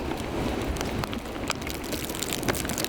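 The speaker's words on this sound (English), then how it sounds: "to experience sheets of rain like this" Heavy rain falls in a dense, steady hiss with scattered sharper drops and patters, close and continuous throughout.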